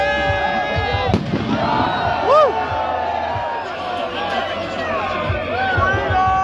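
Fireworks crackle, whistle and bang in a crowded street on Guy Fawkes night in Westminster, with shouting, cheering and whoops from the crowd and nearby voices throughout.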